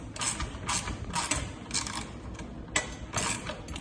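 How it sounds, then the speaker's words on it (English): Repeated ratcheting clicks from a ratchet wrench tightening a bolt come in short bursts against a noisy mechanical background, close by, with no talking. "use the little wrench and the ratchet on the other end"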